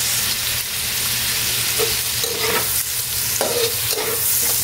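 Pork cubes fry loudly in a pan, a dense continuous sizzle close by, broken by a few quick spatula scrapes as they are stirred; no voices.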